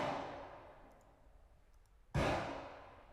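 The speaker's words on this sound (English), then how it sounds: "3 different sounds of a shotgun." Two shotgun blasts for a video game, each a sharp loud crack with a noisy decaying tail, the second arriving about two seconds after the first, with no voices over them.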